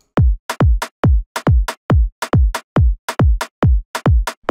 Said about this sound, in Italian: è la classica, quindi kick dritto, cassa dritta, più snare reggaeton